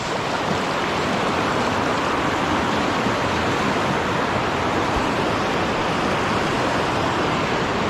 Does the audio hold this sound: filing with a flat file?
no